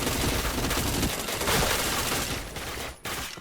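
An APC9 gun fires in the video game Point Blank: a dense, loud stream of close automatic shots that runs nearly continuously, then tapers off with a final short burst.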